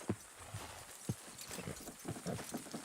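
Horses clip-clopping and straining as they pull in Red Dead Redemption 2, with several irregular hoof thuds at moderate distance and faint background ambience.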